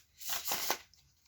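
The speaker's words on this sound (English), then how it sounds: "We'll give this a shuffle." A tarot deck is shuffled by hand, a short soft riffling burst of cards that swells and fades within about a second, close and quiet with no talk.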